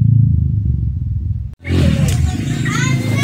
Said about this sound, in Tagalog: Yan po ang tunog ng ating KRY 200.